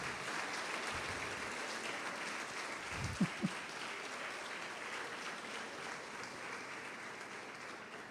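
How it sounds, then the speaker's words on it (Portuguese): Congregation in a church applauding, a soft, distant wash of clapping that holds steady throughout, broken by a couple of brief thumps near the middle. "Vamos aplaudir Jesus"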